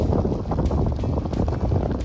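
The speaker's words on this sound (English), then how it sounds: "it's really windy" Loud wind on the Appalachian Trail roars and buffets the microphone steadily throughout, a constant rushing noise with no voices.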